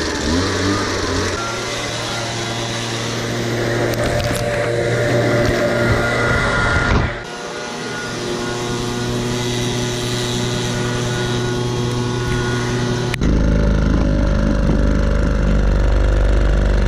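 A John Deere combine engine runs loud and close at a farm wash pad, a steady rumbling drone with a brief dip midway and a rougher, heavier roar near the end.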